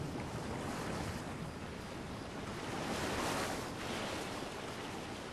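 Ocean surf at high tide washes onto a beach, a steady loud roar of breaking waves with swelling surges and some wind across the microphone, with no voices.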